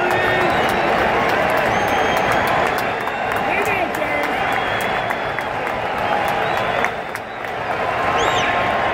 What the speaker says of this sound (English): This crowd is electric!